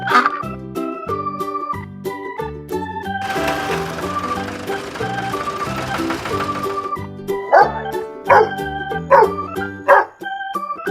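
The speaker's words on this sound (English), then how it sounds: "Dog." A cartoon dog barks in a children's farm-animal nursery rhyme, several short barks standing out near the end over a bright, bouncy musical backing.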